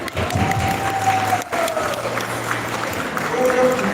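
Audience applause at a beauty pageant, a broad steady wash of clapping lasting a few seconds, with crowd noise and a thin tonal sound running underneath.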